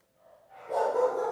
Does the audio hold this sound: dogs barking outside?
yes